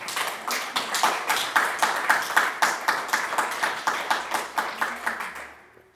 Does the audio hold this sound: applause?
yes